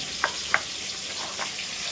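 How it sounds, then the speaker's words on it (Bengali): Lata fish, coated in salt and turmeric, frying in a pan in a home kitchen, a constant soft sizzle with two sharp spatters near the start and fainter pops later, no talking. "আর এখানে মাছ ভাজা চাপিয়ে দিয়েছি"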